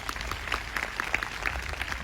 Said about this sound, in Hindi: आइए हम अपने पास्टर्स के लिए एक अच्छी ताली बजाएं सब मिलके.